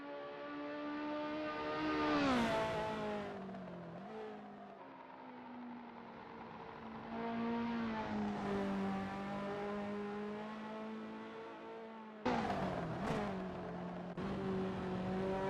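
A Ferrari F40 racing around Kyalami '67 in a racing video game, its engine revving up and down through gears with a steady whining drone, loud and continuous with sharp shifts and no talking.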